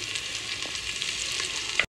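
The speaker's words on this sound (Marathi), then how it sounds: "तर ते थोडंसं फ्राय करून घेते" Steady, bright sizzling of a spice paste frying in a hot pan for vatana bhat, with faint crackles throughout and no voices, cutting off abruptly near the end.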